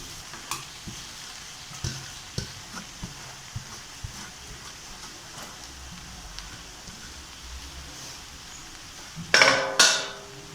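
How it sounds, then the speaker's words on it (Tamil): Cooked rice is stirred into vegetables in a frying pan, with a spatula scraping and tapping the pan in an irregular rhythm over a low sizzle, ending with a louder metallic clatter. "சாப்பாடை நம்ம லேசாக அப்படியே இந்த கலந்து விட்டுக்கலாம்."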